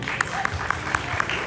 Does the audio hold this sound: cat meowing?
no